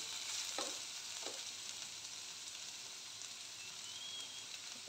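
Mushrooms frying with onion in a pan give a loud, continuous bright sizzle, with a couple of soft stirring scrapes near the start and no voices.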